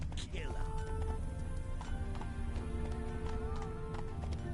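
Roach the horse gallops in The Witcher 3, steady clip-clop hoofbeats running under game music and a voice calling out.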